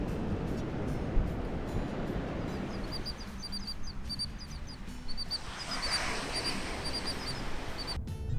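Ocean surf at Zuma Beach in Malibu rolls in a steady, close wash of broadband noise, with small birds chirping repeatedly over the waves.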